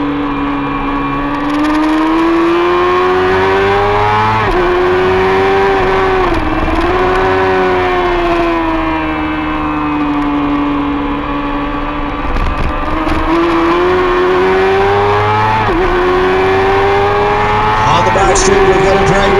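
Racing motorcycles on a road course scream through steady high revs, with engine pitch rising and falling through shifts and braking, loud and continuous.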